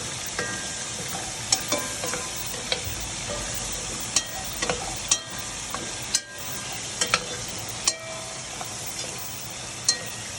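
Onions fry in a pan over a lowered flame while being stirred for a gumbo, giving a steady sizzle broken by repeated sharp scrapes and clinks of the spoon against the pan, close and alone.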